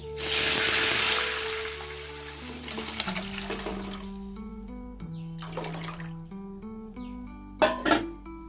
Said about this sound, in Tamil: இப்போ நம்ம ரசத்துக்கு கரைச்சி வச்சுருக்க தண்ணி எடுத்து